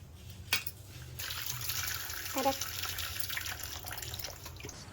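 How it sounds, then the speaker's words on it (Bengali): Cut hilsa fish washed with water and salt, with a steady running trickle and gentle splashing close by throughout a short, fairly quiet stretch, no talk. "মাছ কেটে এখন একটু ভালো করে ধুয়ে নেব একটু লবণ দিয়ে"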